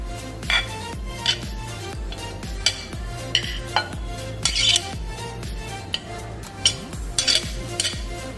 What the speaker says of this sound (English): And we'll give this a nice mix first.